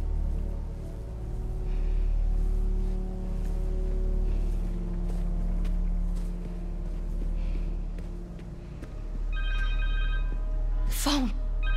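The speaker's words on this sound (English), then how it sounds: "Phone!" A phone rings in the video game Marvel's Spider-Man 2, a short burst of bright tonal rings near the end, rising over a low sustained music bed and game ambience.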